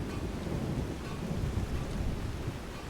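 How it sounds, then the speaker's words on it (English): Rain falls steadily in snowy Windhelm in Skyrim while thunder rumbles low and continuous beneath it, a dense, unbroken storm wash with no talking. "The thunder is roaring"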